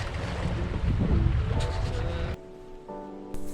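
A sailboat under way on the Baltic Sea, with steady wind and water rushing against the hull, loud at first and then dropping to a quieter wash.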